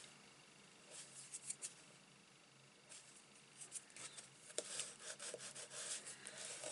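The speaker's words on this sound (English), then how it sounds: "Give that a good burnish." Wet-glued card stock on a fold card rubbed down firmly by hand, giving soft scratchy rubbing strokes in short bursts, quiet and close, with pauses between passes and no talking.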